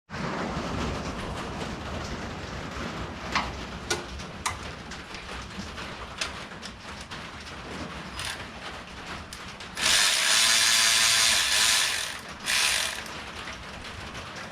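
A hand ratchet loosens 10mm oil pan bolts on a Honda Element 2.4, giving close, steady clicking with a few sharper ticks and then a louder, faster stretch of ratcheting near the end.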